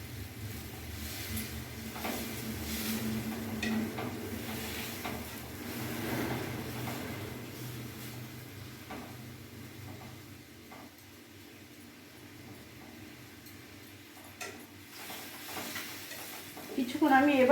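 Cauliflower with salt and turmeric being stirred in a pan over a medium gas flame, soft scraping and faint sizzling running continuously at low level, with a louder clatter near the end.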